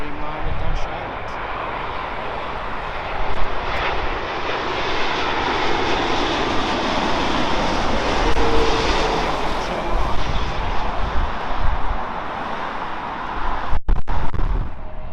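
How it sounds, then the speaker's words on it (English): British Airways Boeing 787-8 Dreamliner engines give a loud, continuous roar that swells slowly as the aircraft passes nearby. "British Airways 787 Dreamliner-8."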